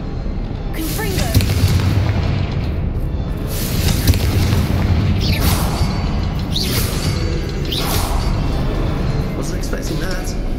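Confringo blast spell going off in the Hogwarts Legacy video game, a loud booming explosion with rumbling bursts and whooshes over a sustained roar of game effects, with speech mixed in.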